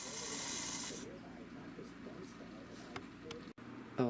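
Steam hisses hard from a pressure cooker holding braised beef brisket, then stops after about a second, leaving quiet kitchen ambience with a few faint clicks, a brief dropout, and a short burst of hiss again at the end.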